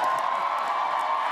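Graduating class and audience at a corrections academy ceremony cheer and clap in a dense, steady crowd roar, loud and continuous with scattered whoops and shouts.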